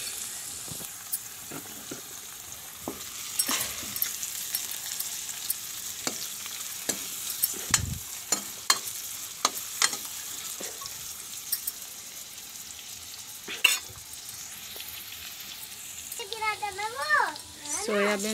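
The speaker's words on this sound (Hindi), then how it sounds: "इधर सोयाबीन भून लूँ पहले" Soybeans roasting in a pan at home while breakfast macaroni and tea cook nearby, giving a steady soft sizzle with scattered crackles and stirring scrapes throughout; a brief voice sounds near the end.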